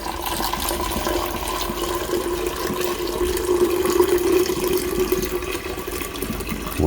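Liquid is poured off settled gold into another vessel, a steady loud stream of pouring liquid that runs without a break for several seconds.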